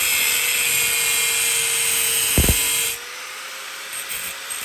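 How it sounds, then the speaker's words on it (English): An angle grinder fitted with a 7-inch cutting wheel makes a loud, steady, high whine as it cuts stainless steel exhaust pipe for a Harley flathead motorcycle. The cut runs continuously, then the tone drops as the wheel eases off near the end. "Here goes a pie cut with a 7-inch cutting wheel on an angle grinder."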